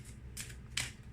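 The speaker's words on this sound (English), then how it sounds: "let's shuffle for the next possible" A deck of tarot-style cards is shuffled, giving two short, soft riffling bursts that sound close and quiet against a faint background.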